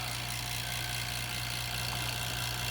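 Vacuum pump evacuating the A/C system of a 1994 Ford F150 truck, a steady low motor hum and drone with a constant mechanical whir, running unbroken at close range.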